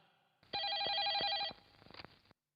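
A telephone rings with one loud, continuous electronic trill lasting about a second, followed by a quieter stuttering tail of tones before it cuts off.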